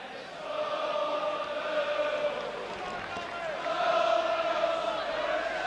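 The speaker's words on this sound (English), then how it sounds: "Spurs fans up here in excellent voices, I'm sure you can hear." Tottenham Hotspur fans chant in unison at a Boxing Day Premiership match away at Norwich, a distant, sustained sung chant rising and swelling across the stadium.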